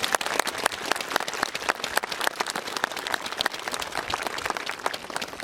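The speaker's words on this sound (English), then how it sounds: "could we give them a round of applause, please?" Sustained round of applause from a crowd gathered at a St George's Day parade, dense overlapping claps continuing steadily and fairly loud with no talk over it.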